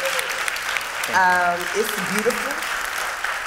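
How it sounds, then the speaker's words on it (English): Audience applause at a book event for a graphic novel adaptation, moderate clapping that carries on under a person speaking briefly and other voices. "Give him a round of applause"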